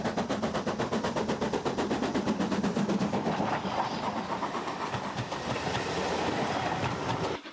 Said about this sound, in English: a 7F hauls a southbound express away from the station